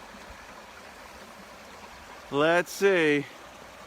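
A frog-filled outdoor stream flows with a soft, constant trickling murmur underneath, while a man's brief spoken words briefly rise over the water near the end.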